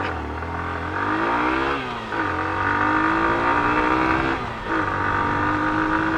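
A Hero Glamour 2025 motorcycle revs hard and climbs through its gears, its engine pitch rising in steady sweeps with brief dips at each shift, loud and close throughout.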